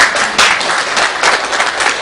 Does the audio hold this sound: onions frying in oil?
no